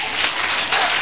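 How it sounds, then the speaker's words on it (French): A church congregation applauds in a steady, dense wash of clapping that swells slightly partway through, close and fairly loud, with no talk over it. "Acclame Jésus."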